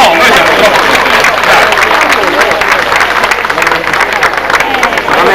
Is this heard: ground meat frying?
no